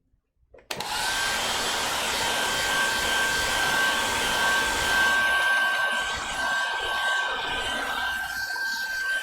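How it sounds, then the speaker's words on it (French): A duck-shaped hair dryer blows on wet watercolour paint, switching on abruptly after a brief click and then roaring steadily and close with a thin, constant high whine, with no talking. "Le sèche-cheveux canard"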